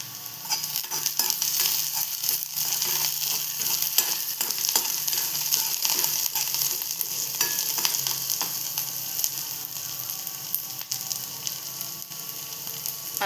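Chopped garlic, green chilli and curry leaves sizzle in hot oil in a pan, a loud, steady crackling hiss with occasional stirring scrapes throughout.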